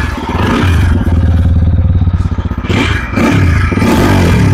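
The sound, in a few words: TVS Apache RTR 160 4V motorcycle exhaust sound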